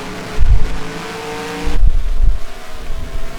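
Race cars on the Sonoma road course climb a hill, two loud engine bursts rising and fading as cars pass at a distance over a steady background drone.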